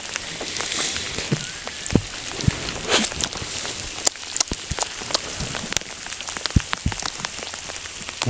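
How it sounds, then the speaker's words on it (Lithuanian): Rain and hail pelt down steadily through a thunderstorm at night, a dense hiss broken by scattered sharp ice ticks and taps close by. "Perkūnija ir kruša."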